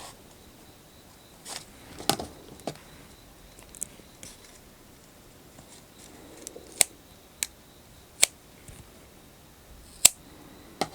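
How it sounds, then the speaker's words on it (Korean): Scissors snipping crochet yarn while a crochet phone bag is made, a few sharp close clicks spread apart over a quiet background with no speech. "이렇게 하고 실은 잘라줍니다"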